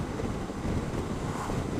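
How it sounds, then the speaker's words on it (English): Steady, heavy wind buffets the microphone while riding a 2015 Honda VFR800X Crossrunner motorcycle on a windy day, a continuous loud roaring rush with no voices. "it is a windy day today"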